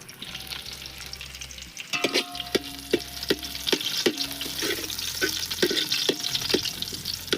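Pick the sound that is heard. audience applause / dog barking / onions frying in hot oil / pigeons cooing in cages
onions frying in hot oil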